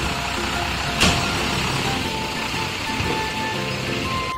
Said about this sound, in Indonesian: lalu juga ada truk sampah teman-teman